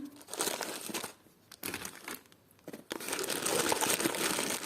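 Plastic packets from a parcel of vintage brooches crinkle and rustle up close in three bursts separated by brief quiet pauses, the last burst longest and loudest.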